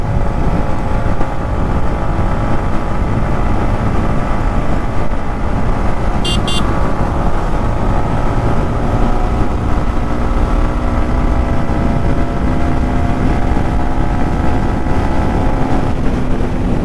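A Yamaha MT-15 V2 motorcycle engine drones loudly while riding, its pitch slowly climbing as it revs, heavily buffeted by wind rushing over the microphone; no voices.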